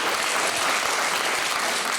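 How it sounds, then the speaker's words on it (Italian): Enthusiastic audience applause for dancers at an Ogliastra folk song and traditional costume festival, a dense, loud, continuous wash of clapping from a large crowd with no talk over it. "quindi ce l'avete un altro applauso per loro"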